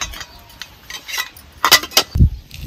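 Metal idli mould bowls handled before oiling, giving a few sharp clinks and scrapes of metal on metal and one duller knock near the end, close and brief with quiet gaps between.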